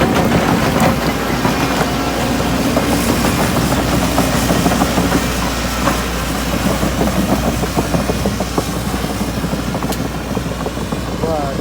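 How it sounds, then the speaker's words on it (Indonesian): A heavy excavator engine drones steadily on an oil palm plantation during replanting, a loud low rumble with vibration that holds throughout, close by and alone without talk. "menggunakan excavator jenis skate"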